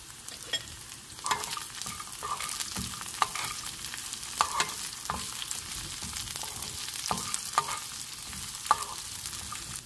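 Cashews frying in a hot oil tempering for rice prasadam, a soft continuous sizzle punctuated by sharp scraping and clinking strokes of a spoon stirring in the pan, close and without speech.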